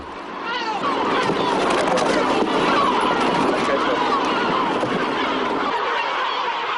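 A dense colony of yellow-legged gulls calls at once on the Medes Islands, a continuous overlapping chorus of harsh cries and squawks, loud and close.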